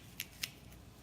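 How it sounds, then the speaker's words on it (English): A sharp-edged grapefruit spoon cuts out the center of a jalapeno for ceviche in a home kitchen, giving two short, crisp scraping snips close by, then a fainter third, over a quiet background. "cut out the center of that jalapeno"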